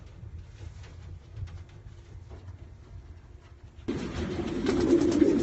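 Racing pigeons coo softly inside a loft, low murmuring calls with light scuffling, joined partway through by a louder broadband rustle that sounds like wings or movement close by.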